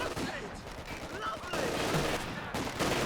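Gunfire crackles and bursts continuously through a Company of Heroes 2 battle, with machine gun suppression fire mixed into dense, loud combat noise throughout.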